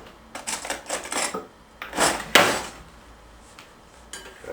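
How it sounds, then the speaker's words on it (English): A spoon clinking against a bowl during a quick stir while mixing an Easter bread dough base of sugar and yeast. Several light, uneven scraping and tapping strokes come in two short clusters, close and fairly quiet. "give that a quick stir"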